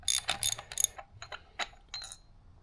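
A ratchet with a 19 mm six-point deep socket turns a coolant temperature sensor on a new 5.4L engine for a 2004-2008 Ford F-150, making several quick bursts of close, crisp ratcheting clicks separated by short pauses.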